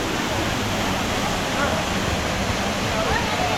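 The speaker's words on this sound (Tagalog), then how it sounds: "Balagbag Falls." Balagbag Falls roars as a loud, continuous rush of falling water, filling the whole scene without a break while a voice talks faintly over it.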